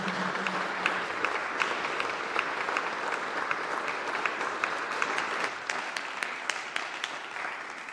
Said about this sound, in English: I'm going to ask everyone now to a massive round of applause.